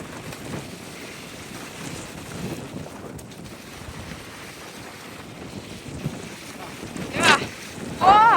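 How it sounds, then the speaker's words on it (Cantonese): Strong wind buffets the microphone beside a lake, a steady rushing roar with heavier gusts surging near the end and a brief voice breaking through. "好大風啊"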